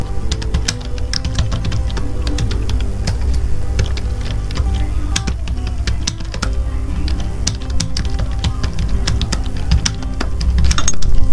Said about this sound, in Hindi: मैं थोड़ा हल्का सा यहाँ पे आपको टाइप करके दिखाता हूँ।